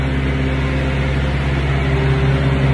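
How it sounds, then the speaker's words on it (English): A refrigerated semi-trailer reefer unit runs with a steady, loud droning hum and low mechanical tones, continuous and close with no talking. "Reefer units, refrigerator trailers."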